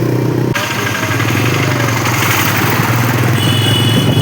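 A motorcycle is ridden on a road with its engine running steady and loud, the drone continuous with wind rush, and a lower rumble of passing traffic.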